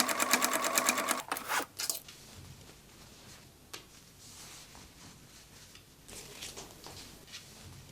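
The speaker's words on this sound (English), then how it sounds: "edge stitch them closed at 2 millimeters on the sewing machine" A sewing machine runs a fast, rhythmic top stitch along the upper edge of a denim bag made from old jeans, with a close, loud burst that stops after a second or two, then quiet handling noises.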